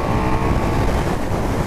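KTM Super Duke R 1290 motorcycle at part throttle, a loud, close, steady engine drone mixed with wind rush throughout.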